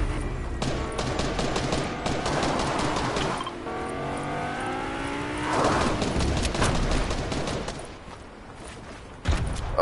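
Rapid gunfire rattles almost without pause in a Fortnite match, dense bursts of shots over a steady, loud wash of game noise, with a rising whine in the middle.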